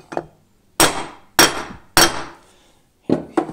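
Five sharp metallic hammer blows ring out close by as a rear wheel bearing is driven into a Segway Ninebot Max G30 scooter, evenly spaced at first, then two quick strikes at the end, each with a brief ringing decay.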